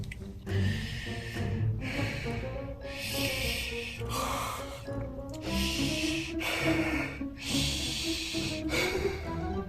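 A voice imitates a monster's heavy mouth breathing with an overbite, loud and close, in repeated rasping snorts and gasps, each breath swelling and fading in a steady rhythm with no other sound.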